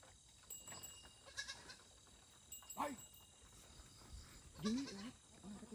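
A baby goat bleats several times in short wavering cries, fairly close, amid rustling outdoor noise and scattered human voices.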